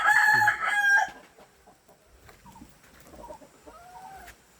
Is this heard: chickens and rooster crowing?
yes